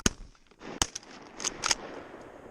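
A shotgun blast goes off during a duck hunt, one sharp loud report up front followed by a few more quick cracking shots and outdoor noise, with no talk.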